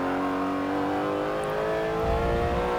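A Porsche 911 GT3 RS engine pulls hard on a race track with a loud, sustained, rising howl heard from inside the car. It revs steadily with no talking.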